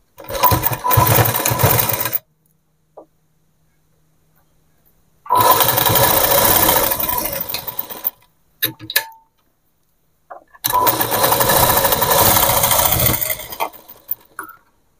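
A sewing machine stitches a long gown in three loud, rapid bursts separated by pauses, each run a close mechanical whirring chatter lasting a few seconds.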